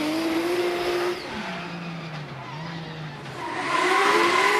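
Drift car at Baypark Stadium during a D1NZ Pro-Championship qualifying run, its engine note rising and falling loudly as tyres squeal and skid along the wall, with a sustained roar throughout.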